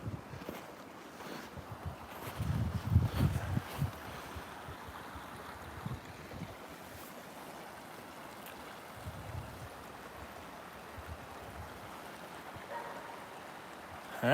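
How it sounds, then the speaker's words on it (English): Water running in a partly frozen river, a faint continuous outdoor flow mixed with wind rumble on the microphone, with a few louder low gusts early on. "Water stream"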